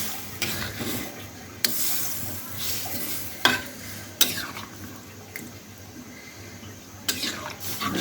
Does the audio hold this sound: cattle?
no